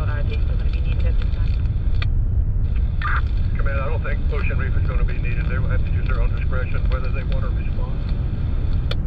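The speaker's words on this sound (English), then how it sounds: "You can see the helicopters." A continuous low rotor and engine roar from two rescue helicopters overhead at Black Point Marina, Miami-Dade, fills the scene, with radio-style voices talking over it.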